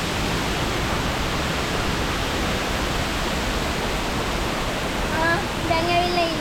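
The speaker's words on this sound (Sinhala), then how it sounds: "දැන් ඇවිල්ලා ඉන්නේ දූවිලි ඇල්ල දෙවෙනි කොටසට" Rushing water of the second tier of Duwili Ella waterfall in the Sinharaja rainforest, a steady broadband roar that fills the whole clip, with faint bird calls rising near the end.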